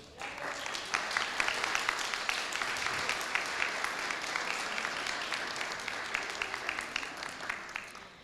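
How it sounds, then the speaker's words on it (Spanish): At a book presentation, an audience gives a guest, a feminist human rights advocate, a sustained round of applause, with many hands clapping at moderate distance in a steady, lively patter lasting several seconds. "para quien pido un fuerte aplauso, por favor."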